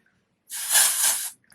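A single aerosol spray, a bright steady hiss lasting under a second, close and fairly loud, starting and stopping abruptly amid quiet.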